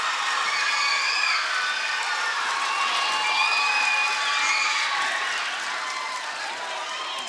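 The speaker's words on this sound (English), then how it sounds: "People here at Central Gym, Franklin County High School, cheering on that victory for the Eagles" Spectators in the Central Gym at Franklin County High School cheer and clap for an Eagles volleyball win, a loud sustained roar with whistles and shouts that eases off slightly toward the end.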